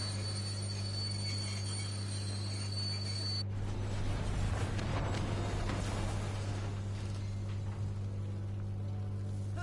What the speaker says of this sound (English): Looks like we can now stop the train.